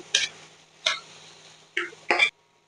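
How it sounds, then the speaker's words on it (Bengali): Chopped tomato cooks down in a pan as a spatula stirs it in four separate scraping strokes, each a short rasp over a quiet, faintly sizzling background. "আমি টমেটোটা একদম গলিয়ে নেব তার জন্য কিছুক্ষণ ভালোভাবে ভেজে"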